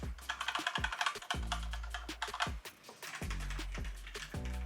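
Keys clatter on a new mechanical keyboard in quick, irregular bursts of crisp clicks, close up and fairly quiet, with short pauses between runs.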